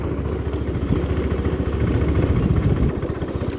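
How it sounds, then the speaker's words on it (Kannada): A scooter idles on a cold, foggy morning, its engine giving a steady, close, low thudding putter with rough clattery pulses and no voices. "ನಮ್ಮ ಸ್ಕೂಟಿ ಏನೋ ಬೇರೆ ಸೌಂಡ್ ಬರ್ತಿದೆ"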